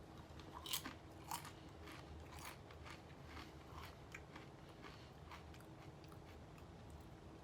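Someone bites and chews a crunchy salted snack up close, with a few sharp crunches early on and then softer, steady crackling chews; quiet throughout.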